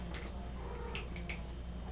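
A young cat at an animal shelter in Salem, Oregon gives a few faint meows over a steady low hum of room noise.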